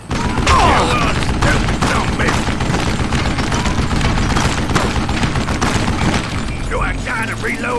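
Rapid gunfire in the Call of Juarez Gunslinger video game, loud repeated shots and ricochets in a dense barrage with a voice talking over the shooting.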